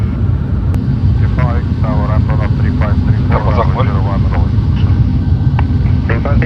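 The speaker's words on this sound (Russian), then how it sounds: "Режим двигателя для взлета." Aircraft engines roar at takeoff power from inside the cockpit, a loud, dense, steady drone that runs unbroken under several crew voices talking over the intercom.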